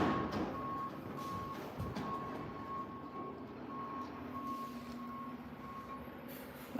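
Garbage truck reversing beeps sound outside in a steady repeating pattern, moderately loud, over a low rumble of the truck's engine and street noise, with no talk.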